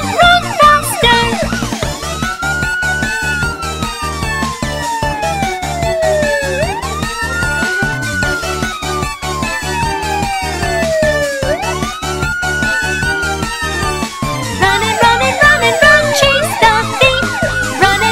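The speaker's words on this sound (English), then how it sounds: "Police car!" Police car siren in a children's cartoon song, wailing in long rising and falling sweeps over bright, busy music throughout, loud and prominent.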